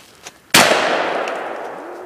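A single loud, sharp 12 gauge shotgun blast is fired at a TV, following a quiet moment and trailing off in a long, fading reverberant decay.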